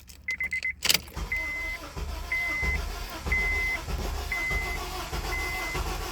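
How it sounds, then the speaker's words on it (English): A Honda car cranks but won't start, its engine churning in a low sustained rumble while a dashboard chime beeps steadily about once a second. "So let me show you what I got when I was trying to start it up."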